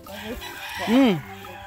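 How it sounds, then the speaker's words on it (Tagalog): A red chicken lets out a single loud, drawn-out cluck close by, rising and falling over about half a second amid faint background noise. "Manok na pula."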